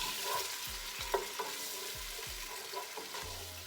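Chopped onion in a quarter cup of oil in a stock pot gives a steady low sizzle, broken by several soft scrapes and knocks of a spoon as it is stirred.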